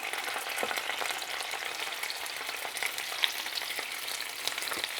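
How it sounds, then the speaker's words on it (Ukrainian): Steady, dense sizzling of fish frying in hot oil, continuous crackle with occasional sharper pops, fairly close and without any talking. "смажимо нашу рибку по пару хвилин з двох сторін."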